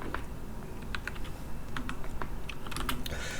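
Close, quiet typing on a computer keyboard while entering CAD commands: irregular runs of light key clicks with a few sharper taps, and no voices.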